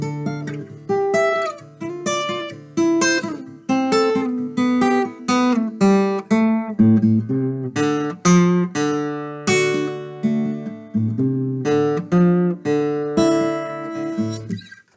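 Plucked guitar playing a riff, picked notes and strummed chords blending in a steady rhythm, close and clear with no voices.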